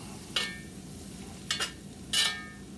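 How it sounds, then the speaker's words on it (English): Elk chili being stirred in a cast iron Dutch oven: three short scraping, clinking strokes of a utensil against the pot, separated by pauses, close and fairly quiet over a low background hum. "let's get this stirred up a little bit."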